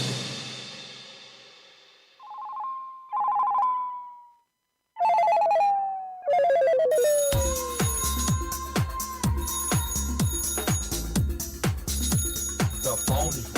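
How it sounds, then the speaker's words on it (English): A telephone rings repeatedly in short bursts, first alone with gaps of silence, then continuing under a loud busy bed of music and other sound. "The phone is ringing."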